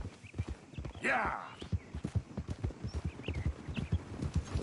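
Horse hooves clip-clop steadily at a walking pace in the Red Dead Redemption 2 video game, close and rhythmic, with a brief whoosh and someone talking over the hoofbeats.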